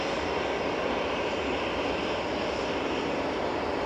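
A Boeing 787-8 airliner arrives at Manchester Airport, its engines a steady, broad roar heard at moderate distance and fairly faint, continuous without talk.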